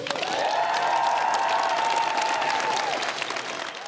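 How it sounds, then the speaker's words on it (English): A crowd applauds a departing prime minister walking to the gates on his way to Buckingham Palace: steady, dense clapping that stays loud for several seconds and then begins to thin. "applauded all the way to the gates, then on to Buckingham Palace"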